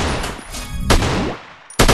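Gunfire crackles loudly in an Android army shooter game, coming in three close, sharp bursts with brief gaps between them and no speech.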